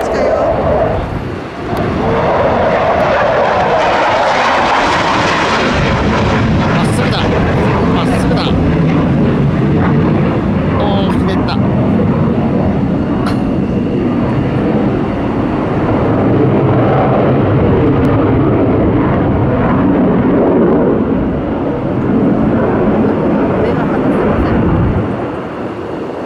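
A military aircraft on approach to land at Kadena Air Base roars loudly and continuously close overhead, a broad sustained engine rumble that swells and lingers, with people talking excitedly beneath it.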